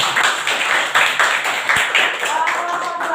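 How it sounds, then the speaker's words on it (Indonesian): A classroom group claps for the first group after its presentation, a brief round of applause with quick, evenly spaced claps that stays fairly loud and steady throughout. "boleh kita beri aplaus untuk kelompok 1 dulu"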